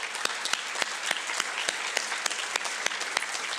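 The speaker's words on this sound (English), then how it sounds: "Can we get another round of applause for her?" Applause from a student ceremony audience, a steady patter of many hands with sharp individual claps standing out, moderately distant and unbroken throughout.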